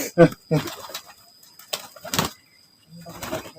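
Courting pigeons cooing close by in soft, low bursts, with people talking in between.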